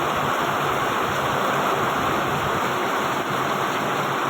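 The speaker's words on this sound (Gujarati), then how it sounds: "ફૂલ વરસાદ ચાલુ મારા ગણવાળા ગામમાં જોઈ લો" Steady, dense rushing hiss of heavy evening rain pouring down on a village without a break, loud and even throughout, with no voices.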